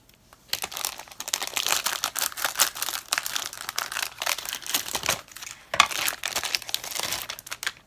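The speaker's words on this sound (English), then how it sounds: "So here's the container out of the crinkling plastic" Plastic packaging wrapped around a cheap storage container with flimsy latches and a hinge crinkles and crackles in busy, continuous bursts, with a brief pause near the middle, close and fairly loud, with no talking.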